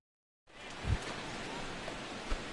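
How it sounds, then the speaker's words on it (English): Steady rain falls throughout a baseball game in MLB The Show 16, Yankees vs Orioles, a continuous broadband hiss with two soft thumps, no talk. "as the rain continues to fall here"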